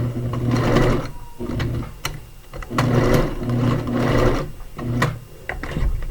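A sewing machine tacks elastic onto a turned cloth diaper, running in several bursts of rapid mechanical whirring stitches with short pauses between them, close and fairly loud.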